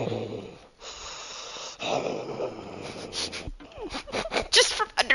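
A human voice imitates a monster's wet, wheezing breath, like someone exhaling with a cold through a distended jaw, in rasping gasps and snorts that grow louder toward the end.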